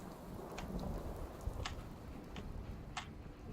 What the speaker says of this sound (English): You do hear the sound of the rain on the roof